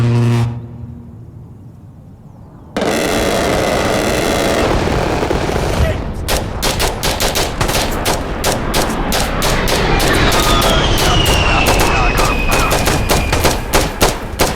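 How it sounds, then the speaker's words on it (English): An A-10 strafing gun run in the shooter game Insurgency Sandstorm: a loud, sustained roaring burst of cannon fire joined by sharp gunshots and booming impacts, with a high whine of a jet passing overhead, under occasional game voice chatter. "Can Warlock do a gun run at this target?"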